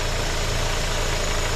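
A 2007 Hyundai Sonata 2.4L four-cylinder idles up close with a steady, even rumble and a smooth low hum, no revving and no voices over the engine.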